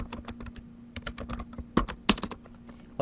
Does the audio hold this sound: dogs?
no